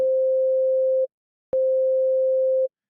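A Surge XT synthesizer patch, being built as a kick drum with envelope modulation, sounds as two steady sustained electronic tones, each about a second long, separated by a short silence.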